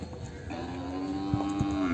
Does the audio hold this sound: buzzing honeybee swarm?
no